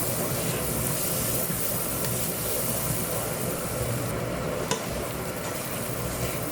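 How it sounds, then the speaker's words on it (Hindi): Masala frying and being stirred in a pan for a chicken malai handi, a loud continuous sizzle with scraping stirring strokes throughout and one sharper knock near the end. "ताकि मसाले अच्छे से भुने, कुछ कच्चा ना रहे"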